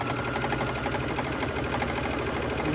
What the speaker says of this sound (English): So I am going to put it in my sewing machine and do my regular 1/4 inch.